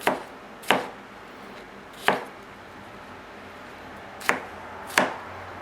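A knife roughly chops cleaned bell peppers on a board, giving five sharp, separate thuds at uneven intervals, close and clear, with quiet gaps between them and no voices.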